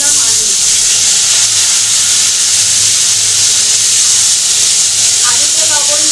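Potatoes dropped into hot oil tempered with white cumin give a steady, loud sizzling hiss close up that runs throughout, with faint kitchen clatter near the end.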